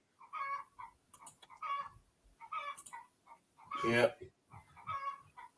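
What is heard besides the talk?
chicken clucking and crowing in yard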